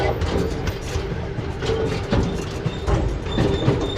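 San Antonio Zoo train rolling along its rails, a steady rumbling clatter with faint rhythmic clicks throughout, moderately loud and close.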